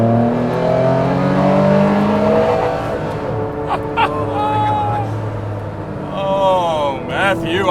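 A Ferrari Enzo accelerates hard on a track straight, its loud engine note climbing through the gears before easing off. Voices and excited reactions come in over the engine toward the end.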